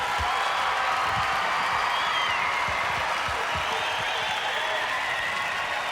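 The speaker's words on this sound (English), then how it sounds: "let's have a round of applause for Lorene and Rona" A studio audience at the 1995 Australian Gladiators TV show applauds two contestants, a dense, steady roar of clapping with some cheering that stays loud throughout.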